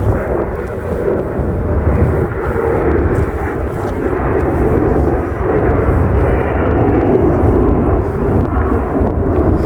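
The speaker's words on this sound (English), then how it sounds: "So you see a lot of plane keep flying out," A loud, low jet roar from an airplane departing LaGuardia Airport rumbles continuously overhead, a broad steady drone that fills the whole stretch without pause, heard from a park in Queens, New York City.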